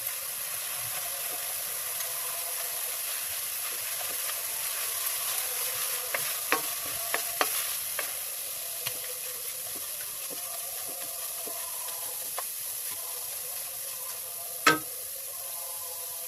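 Carrot zarda simmers in a pan over medium-low heat after milk is poured in, a steady soft sizzle and hiss with a few faint stirring taps and one brief sharp clack near the end.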